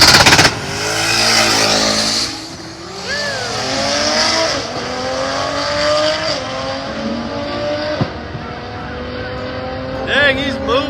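A stick-shift Dodge Viper with air conditioning launches and accelerates hard down a drag strip, its engine note climbing through several gear changes, loud and sustained with tire noise, fading slightly as it pulls away.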